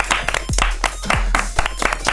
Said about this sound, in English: I gave you one clap, that's more than you gave me.